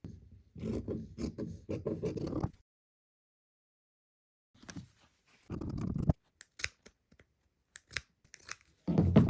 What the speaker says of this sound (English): enjoy me cutting the rest of this fabric out